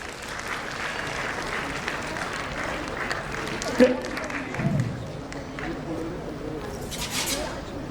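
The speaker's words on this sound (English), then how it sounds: "Please give him a huge round of applause" Audience at a school golden jubilee fest giving a guest professor a round of applause, a broad, even wash of clapping from a large crowd with some voices mixed in.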